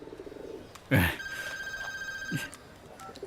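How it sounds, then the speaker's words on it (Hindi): A telephone rings with a steady electronic tone for about a second in a Hindi-dubbed film scene, with voices and room noise around it. "देखो किसका फोन है।"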